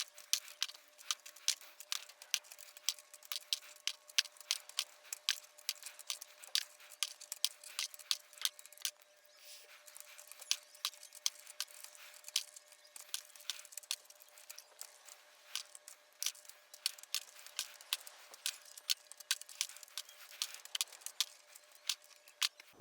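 Sharp plastic clicks and snaps as keycaps are pried one after another off a Microbee computer keyboard, a steady close-up run of crisp ticks with a brief pause midway and a faint constant hum underneath.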